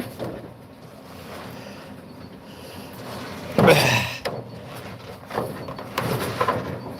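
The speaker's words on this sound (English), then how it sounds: "The rustling sound you're hearing is me messing with the Fresnel lens." A big Fresnel lens is handled and shifted about, giving soft, uneven rustling and scraping bursts over a low, breezy background, with one louder crinkly flurry midway.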